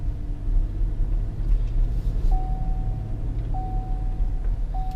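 A Cadillac SRX on a test drive gives a steady, low road rumble from inside the cabin, with a faint repeating electronic chime sounding over the engine and tire noise.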